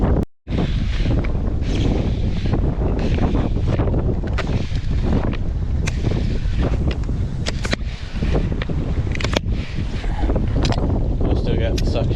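Strong wind of around 50 mph roaring and buffeting the microphone outdoors beside a lowered pond, a constant heavy rush with gusts and occasional sharp crackles throughout.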